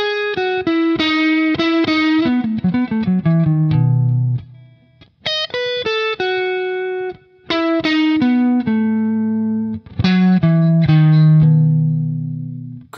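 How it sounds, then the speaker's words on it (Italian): Electric guitar with effects playing a major pentatonic line with added fourth and minor seventh: quick ascending and descending note runs in phrases separated by short gaps, each ending on a held note, clean and upfront with no voices. "Questo è il suono della pentatonica con la quarta, in questo caso pentatonica maggiore con la quarta più la settima minore."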